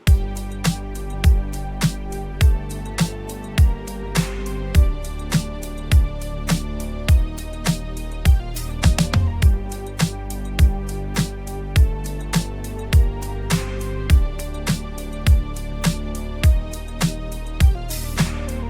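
A gliding legato synth lead plays a melody over a steady beat of deep kicks and snappy snares, with notes sliding downward toward the end.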